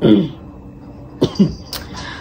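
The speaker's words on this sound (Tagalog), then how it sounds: "ang ubo ko hindi naaalis, isang linggo na" A few short coughs close by from a cough lasting a week, sharp bursts spaced unevenly, following a brief moment of someone talking at the start.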